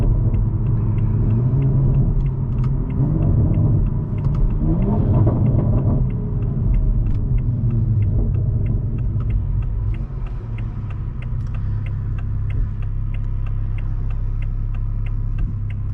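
A 2021 Toyota Supra with a muffler delete and downpipe cruises steadily, its deep engine and exhaust drone filling the cabin as a continuous low rumble with no talk.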